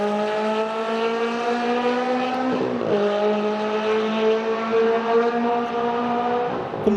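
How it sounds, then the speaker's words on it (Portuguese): A traditional Ferrari engine roars at high revs with a strong, steady harmonic howl. The pitch dips sharply once as the car shifts gears, then climbs again, loud and close throughout with no talk. "continuar ouvindo o som e a emoção de um motor Ferrari"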